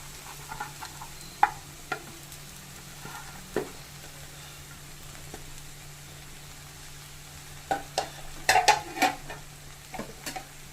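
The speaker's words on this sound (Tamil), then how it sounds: "இப்போ இதை நல்லா நீங்கள் கலரி விட்டுக்கோங்க." Bread pieces are stirred into fried masala in a pan for veg bread masala, with soft, steady sizzling under scattered scrapes and clinks of a spoon that cluster into a busier run toward the end.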